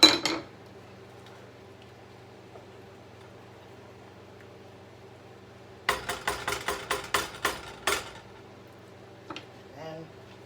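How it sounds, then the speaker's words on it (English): A utensil clinks rapidly against a pot while shrimp Alfredo with gnocchi is stirred, a quick run of metallic taps over a steady low hum, with scattered scrapes before and after. "Now I'm going to stir this."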